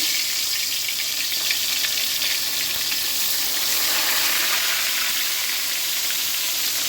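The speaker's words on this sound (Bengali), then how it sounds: "তেল সুন্দর মতো গরম হয়ে গেছে এবার কিন্তু মাছগুলোকে এক একটা করে দিয়ে দেবো" Koi fish fry in hot oil, a loud, close, unbroken sizzle with a bright hiss that holds steady throughout, with no speech.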